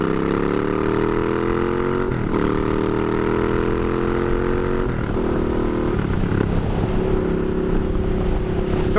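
A motorcycle rides along the road in Florida, a steady loud engine drone with wind rush and slight shifts in pitch as the rider eases and accelerates.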